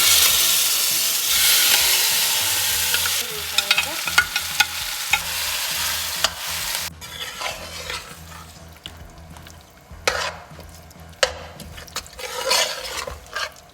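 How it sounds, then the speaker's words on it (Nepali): Marinated chicken for chicken biryani going into a hot pot, loud sizzling and frying at first, then stirring and scraping sounds with intermittent bursts of sizzle. "अब यता चाहिँ म अघि म्यारिनेट गरेर राखेको चिकन राखिदिन्छु"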